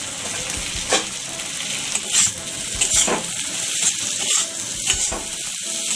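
Green capsicum is stirred in a hot pan while making fried egg Maggi, a continuous close sizzle broken by repeated scraping clicks of the spatula against the pan at an uneven rhythm.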